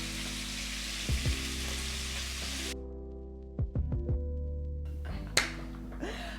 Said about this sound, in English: you're just working little batches until all your meat is browned and seared